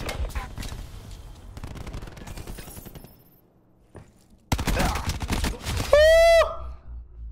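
Rapid bursts of automatic gunfire from a weapon in Call of Duty: Black Ops 4, loud and close, firing in two stretches separated by a brief lull.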